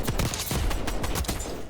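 Rapid automatic gunfire from a Black Ops 6 multiplayer match, bursts of shots crackling in quick succession, loud and close, with no talking.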